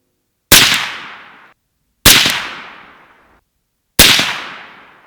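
Three loud, sharp 300 Blackout rifle shots firing a Barnes 120gr TAC-TX supersonic hunting load, evenly spaced about 1.5 seconds apart, each crack trailing off into a long echoing decay outdoors with no talking.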